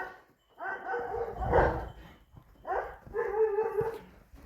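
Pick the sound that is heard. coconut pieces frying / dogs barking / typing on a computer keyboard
dogs barking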